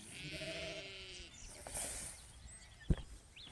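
A sheep bleats once up close at the start, followed by quieter rustling and a sharp knock, with outdoor background noise on a farm.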